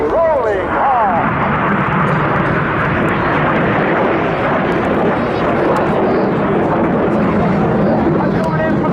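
Red Arrows synchro pair jets rolling hard at the RAF Cosford Airshow 2024, a loud, sustained broadband jet roar that holds steady throughout, with no break in the engine noise.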